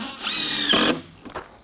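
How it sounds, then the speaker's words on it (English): Power drill driving a screw into a wooden deck board, a close, whining motor burst just under a second long that rises in pitch, followed by a few faint knocks. "So now the secret is to put in all your screws one board at a time and try to keep them straight."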